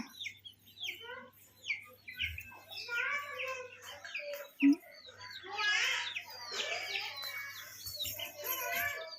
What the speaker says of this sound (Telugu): మా కోళ్ళు వచ్చినాయి నాన్న